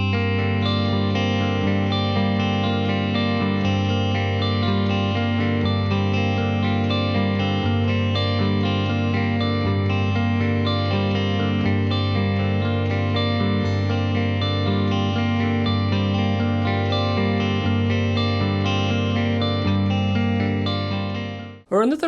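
Two guitar parts play twinkly math rock chords together, sustained and layered with effects, chorus and echo, loud and continuous for about twenty seconds before stopping abruptly.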